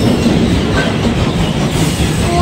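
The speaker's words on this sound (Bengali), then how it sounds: "দেখতে পাচ্ছ ওই যে মালগাড়ি যাচ্ছে" A freight train rolls through Raniganj station, loud and close, with a dense, steady rumble and rhythmic wheel clatter across the whole stretch.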